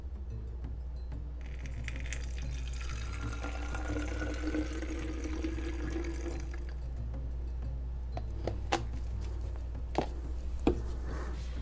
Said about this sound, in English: Then you pour into your spray bottle.